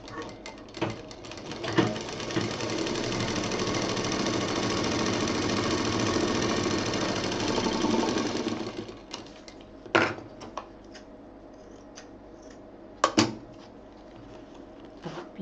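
A sewing machine stitches a small fabric pouch in one steady, fast run for several seconds. It then stops, leaving scattered clicks and knocks as the fabric is handled.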